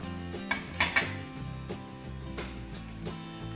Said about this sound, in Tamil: ஒரு கத்தி இல்லைன்னா ஃபோர்க்கு ஏதாவது ஒன்று யூஸ் பண்ணி இந்த மாதிரி லேசாக குத்தி பார்த்துக்கோங்க